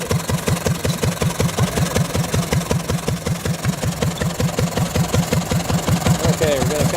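A Collis engine with a radiator built into its flywheel runs steadily at idle, its even thumping beats carrying on close and loud throughout with a faint mechanical clatter.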